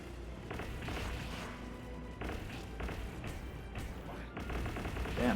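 Gunfire in a video game on an oil rig map, a series of muffled, distant shots and thuds in bursts over a steady background rumble, fairly faint.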